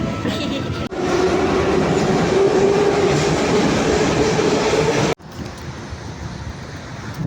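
A metro train rumbles loudly at close range, a steady roar with a faint whine that drops abruptly as the car moves on.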